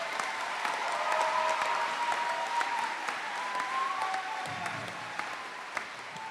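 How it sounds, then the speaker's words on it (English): Audience applause for graduates at a community college commencement ceremony, a steady sustained round of clapping from a large crowd filling the hall at moderate volume throughout. "join me in giving those graduates a warm round of applause to celebrate their achievements."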